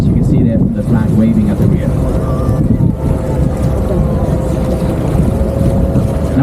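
A harbour tour boat cruises through Copenhagen harbour with a steady low engine rumble and wind buffeting, loud and continuous throughout.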